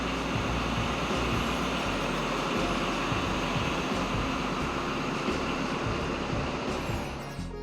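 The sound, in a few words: passenger train travelling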